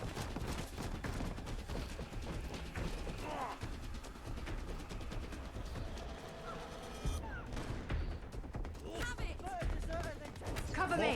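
Sustained gunfire from a firefight in the video game Fallout: London, with dense bursts and rattling shots running continuously at high volume across the whole stretch, mixed with game effects and a voice.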